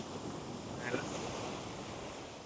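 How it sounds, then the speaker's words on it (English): Wind blowing steadily across a seashore during shore fishing, a continuous broadband rush mixed with the wash of surf, fairly faint and even throughout, with no voices. "Now there's a little bit of wind"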